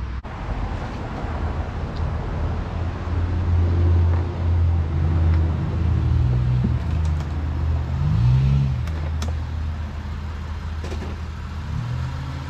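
A Lexus IS engine idles and then revs as the car creeps forward and climbs onto ramps, the low rumble rising and easing, steady and close throughout.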